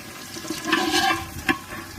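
Boiled potatoes frying in oil in a village kitchen, a soft continuous sizzle with a few brief louder bursts and crackles, moderately close and heard alone without speech.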